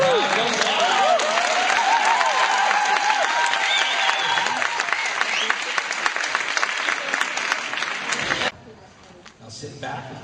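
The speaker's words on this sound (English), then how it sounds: "And the crowd goes wild." A crowd at a horsemanship event applauds and cheers loudly with whistles and shouts for about eight seconds, then the noise cuts off abruptly, leaving a quieter room.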